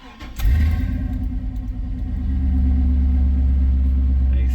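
Chevy C10 truck engine cranks briefly and catches, then settles into a steady, loud low rumble at idle, close by, with no talking over it.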